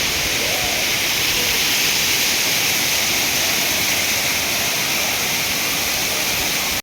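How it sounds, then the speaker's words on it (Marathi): The Nhavankond waterfall at Talavade in Devgad roars loudly and without a break, a dense, steady hiss of falling water close by. "खूप सुंदर धबधबा आहे।"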